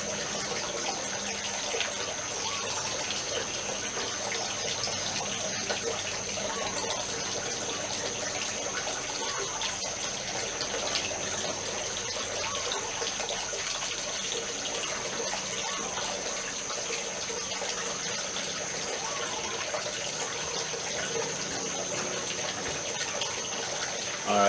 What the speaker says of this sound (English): I can go turn off the inflow water.